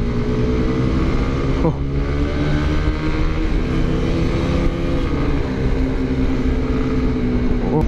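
A Honda CB150R motorcycle engine drones loud and close climbing a long uphill, holding a steady labored pitch with slight rises, wind noise over the whole stretch.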